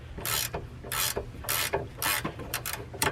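A wrench and Allen key loosening a sway bar end link nut give off a series of close, quiet metallic ratcheting and scraping strokes, repeated in a steady rhythm of about five bursts.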